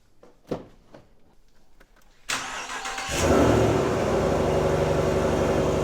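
A full-size truck engine cranks and catches, then settles into a loud, steady rumble after a few quiet clicks and taps, following an oil change.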